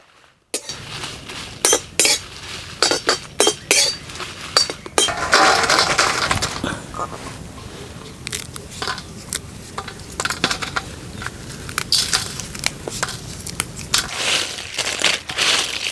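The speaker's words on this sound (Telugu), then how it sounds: "చూసారా గలగల్లాడుతున్న మిరపకాయలు" Dry chillies rattle and crackle in a pan, a rapid dry clatter with sharp clinks and scrapes, close and fairly loud.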